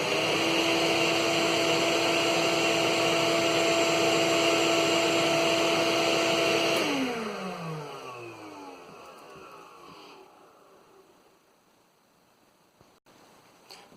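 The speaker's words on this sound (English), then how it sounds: "Now we will turn on the vacuum cleaner" A vacuum cleaner motor drones steadily, then switches off and spins down with a falling whine, leaving quiet room noise.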